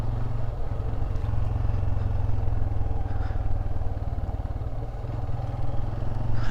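A motorbike ridden slowly along a mountain road in Khajjiar, Himachal, its engine putting out a steady close low drone that holds at an even level the whole way through, with no talk over it.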